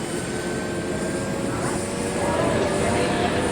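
A helicopter flying overhead near Fort Sumter drones steadily in the background with a rotor-like rumble, continuous and moderately loud throughout.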